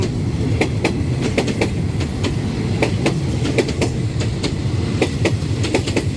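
A train rolls past Bang Sue station on a rainy morning, with steady rumbling and rapid clickety-clack of wheels over rail joints under a constant wash of rain.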